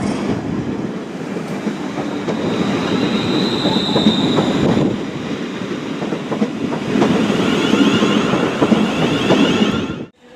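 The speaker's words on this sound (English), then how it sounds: "Train now arriving into platform 11" A train pulls into a station platform at Crewe, a steady loud rumble of wagons and wheels with clickety-clack and a thin wheel squeal rising and fading, running continuously before cutting off abruptly at the end.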